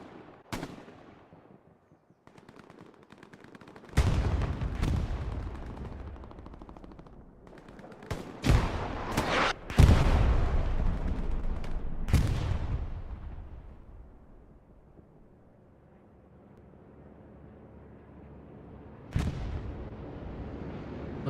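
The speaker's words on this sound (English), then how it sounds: "Looks like another bombing run is being called in." Loud explosions from a bombing run in Hell Let Loose on the Carentan map, a series of heavy blasts and gunfire bursts with long booming decays, separated by quieter stretches of distant battlefield rumble.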